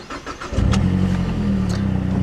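A 2012 Mazdaspeed3 engine cranks briefly on the key and catches, then settles into a steady idle close by.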